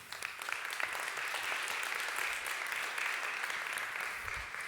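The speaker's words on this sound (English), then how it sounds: "So give them a round of applause, Laszlo and the team." Audience applause for an event setup team, dense continuous clapping from a crowd at moderate distance, with no voices over it.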